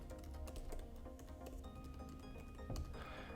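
Quiet, quick keystrokes patter on a computer keyboard as a password is typed, a close run of light clicks with a couple of slightly louder taps near the end.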